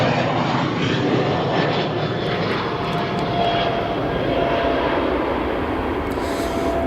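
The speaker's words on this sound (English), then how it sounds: "Arrival Air Canada jets arriving from Vancouver in" An Air Canada Airbus A319-114 jet arriving at O'Hare International Airport, its engine roar steady and loud throughout, a broad continuous rumble and whine with no talk.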